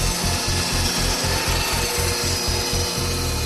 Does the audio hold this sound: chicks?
no